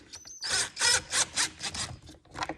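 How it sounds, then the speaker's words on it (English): Impact driver tightening screws into the plastic glovebox of a 2021 Ski-doo 850 Turbo snowmobile, a series of about six short close bursts with brief gaps. "These are just going into plastic, so don't get crazy with the impact here."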